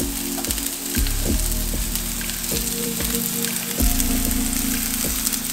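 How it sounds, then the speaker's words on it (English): Oyster mushrooms fry in oil in a cast iron pan over moderate heat, a steady loud sizzle with crackling spatter throughout and a few soft knocks and shifts of the food in the pan. "let's add the mushrooms to the cast iron pan"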